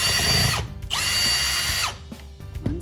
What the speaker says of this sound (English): Unscrew the top and the bottom, and then you're gonna pull this all the way out.